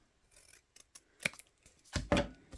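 A few crisp snips of scissors cutting paper, close up, with short rustling pauses between cuts and the loudest snips at the end.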